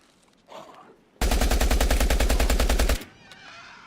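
Gunfire in the video game Will to Live Online: a single rapid automatic burst of roughly two seconds, loud and close, with faint scuffling before and after.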